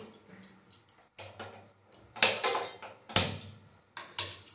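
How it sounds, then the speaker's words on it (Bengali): A gas stove being lit in a home kitchen, its igniter giving a handful of sharp, close clicks at uneven intervals over a low background hiss, with no talking. "প্রথমে আমি গ্যাসটা জ্বালিয়ে দিচ্ছি"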